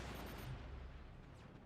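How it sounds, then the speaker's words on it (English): Dense, continuous bursts of machine gun fire in a first-person shooter video game, rapid and fairly loud, with low booming rumble underneath. "Machine gun shutting that down."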